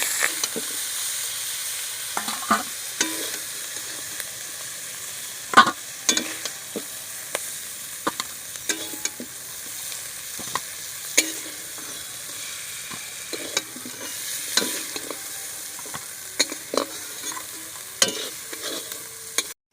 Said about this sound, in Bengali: কাঁকড়াগুলো আমি একইভাবে ভেজে